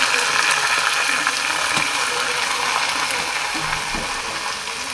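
Rice poured onto deeply browned onions sizzling in a pan for bhuna khichuri, a steady loud frying hiss with scattered crackles and light scraping throughout.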